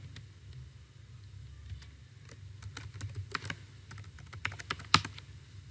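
Keystrokes on a computer keyboard as a password is entered at a login screen, a steady run of light clicks that grows busier toward the end, over a low hum. No one speaks.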